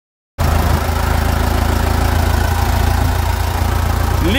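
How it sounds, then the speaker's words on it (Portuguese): A Toyota Land Cruiser FJ40 with the 14B diesel engine runs loud and close at a steady idle, with a deep low rumble and an even, unbroken throb after a sudden start. "Com motor lendário 14B Toyota."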